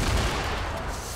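Rapid burst of automatic gunfire in a Fortnite squad fight, a dense rattling volley that booms at the start and stays loud throughout its short length with no talking over it.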